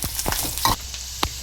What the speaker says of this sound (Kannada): ಈಗ ಇಲ್ಲಿ ನಾನು 3 ಒಣಮೆಣಸಿನ್ಕಾಯಿನ ಹಾಕೋತಾ ಇದ್ದೀನಿ